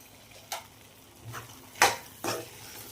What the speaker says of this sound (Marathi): पूर्ण मिक्स करून घेते